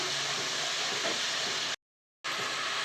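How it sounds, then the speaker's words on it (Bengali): Masala spices frying in a pan for a Bengali dish of greens with hilsa fish head and tail, a steady close hiss and crackle that cuts out briefly before resuming. "মশলাটা কষিয়ে নিচ্ছি।"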